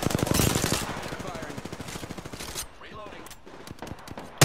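Rapid automatic fire from an R-301 rifle in Apex Legends, a dense run of close shots for over two seconds, then sparser distant shots and game effects with a voice speaking briefly.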